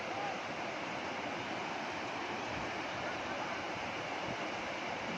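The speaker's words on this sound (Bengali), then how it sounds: "জলের কি আওয়াজ বন্ধুরা, দেখতে পাচ্ছেন?" Flowing water rushing steadily and fairly loud, a continuous broadband roar with no breaks.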